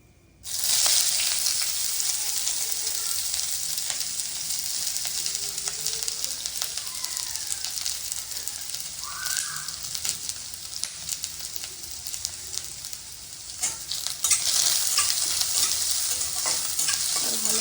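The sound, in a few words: onions frying in pan with bay leaf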